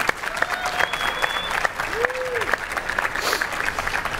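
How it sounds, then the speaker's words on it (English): An audience at a magic talk gives a round of applause, dense clapping that continues steadily throughout with a few faint tones and brief crowd noise mixed in. "maybe with a round of applause"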